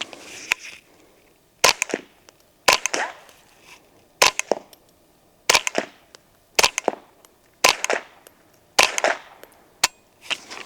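A suppressed .22 firearm fires about ten sharp, dry cracks, each followed by a quick metallic clack. The shots come at fairly even intervals of roughly a second, with quiet between them.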